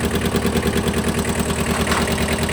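The engine of a Kubota B-10 four-wheel-drive mini tractor runs close by at a steady, loud idle with a rhythmic low chugging throb and vibration, and no talk over it.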